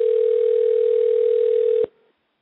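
A single long electronic ring tone heard over a phone line, steady and buzzing, then abruptly cut off.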